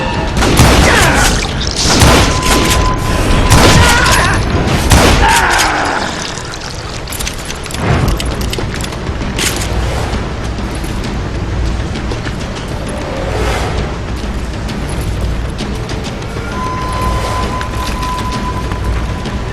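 Loud, dense gunfire and booming explosions in the Western shooter Call of Juarez Gunslinger, with repeated sharp blasts and shots early on that settle into continuous rumbling battle noise and scattered further reports.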